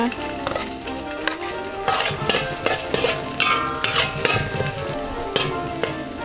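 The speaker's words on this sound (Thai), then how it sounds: "น้ำมันฮ้อนแล้วให้เอากระเทียมลง" Garlic sizzles and crackles steadily in a little hot oil in a pan for Thai-Lao stir-fried wide rice noodles with pork, with scraping stir strokes and clatter running throughout at close range.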